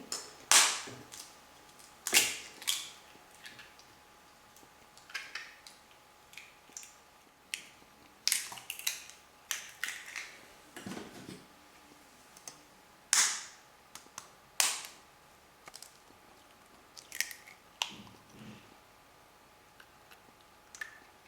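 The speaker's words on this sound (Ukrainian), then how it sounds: "Беремо 5 яєць, е, відділяємо білки від жовтків." Five eggs being cracked and separated, yolks from whites, for a sponge cake: scattered sharp, faint, close taps and clicks at irregular intervals in a quiet kitchen, with no talk.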